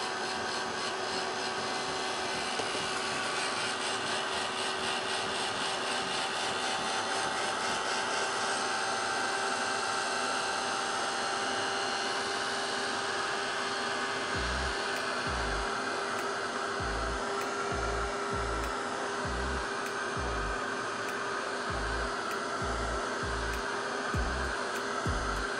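A hair dryer blowing steadily to dry watercolour ink, with a continuous whooshing whine throughout and rhythmic low thumps in the later half as it is moved or switched.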